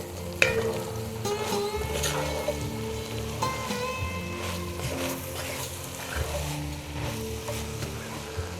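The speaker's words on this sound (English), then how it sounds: "We're going to give this a quick mix." Spices and seasonings being stirred into a pot of kale soup with sausage, continuous sizzling and frying under quick stirring scrapes and clinks, close and steady, no voices.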